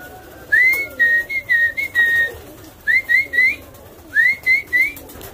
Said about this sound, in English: And while they're eating, I do my little whistle.